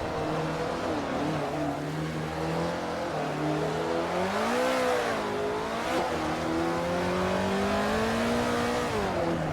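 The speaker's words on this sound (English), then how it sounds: "Battle for 5th between De Griffenried and Roll, both in the Maseratis." Maserati race cars in the Assetto Corsa racing game, set in the 1950 Formula One season, roar past with rising and falling engine whines as several cars rev and shift together, loud and steady throughout.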